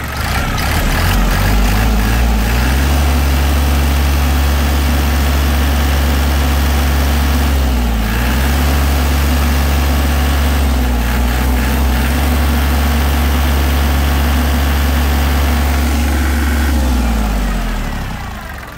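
A Kubota GL201 tractor with a 21-horsepower engine idles steadily and close by, a loud, even diesel throb with a slight rev early on and small dips in pitch, running for nearly twenty seconds with no talk.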